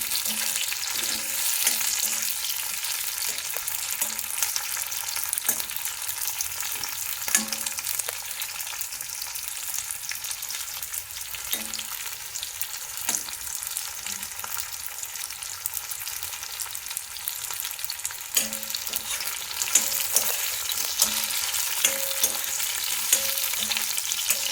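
Paneer roasting in a pan over a slow gas burner gives a steady, close crackling sizzle, with soft irregular stirring knocks throughout.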